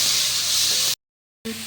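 Ground onion paste hitting a hot pan in a home kitchen, giving a loud, steady broadband sizzle that cuts out abruptly for half a second before the hiss resumes.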